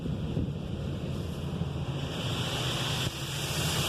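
Water sprays steadily over a car during a rinse pass in a Washworld Razor automatic car wash, a continuous broad hiss and rush heard from inside the vehicle with no voices.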